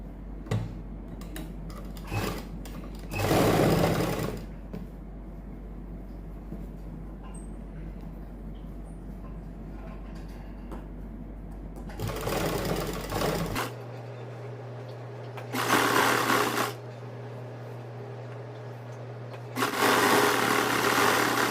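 A sewing machine stitching a ladies suit, several short loud bursts of rapid mechanical stitching with quiet pauses between them, heard close with no talk.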